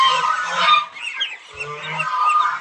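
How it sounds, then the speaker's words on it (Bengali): Chinese goose chicks about 40 days old, part of a flock of over a hundred, give a busy run of nasal honks and chattering calls that overlap closely and loudly with no pause. "এখানে 100+ চীনার হাঁসের বাচ্চা আছে।"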